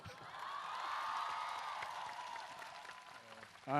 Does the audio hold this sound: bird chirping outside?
no